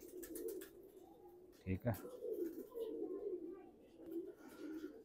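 Pigeons kept by a fancier coo in a soft, steady rhythm close by, with someone speaking briefly over them and a short rustle partway through.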